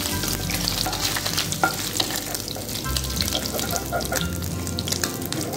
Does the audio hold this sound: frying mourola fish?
yes